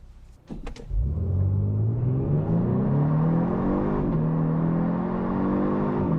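A 2022 Genesis G70 3.3t with a twin-turbo V6 in Sport Plus mode accelerates hard from inside the cabin, its engine note climbing steadily through the gears with a continuous loud, smooth rising roar.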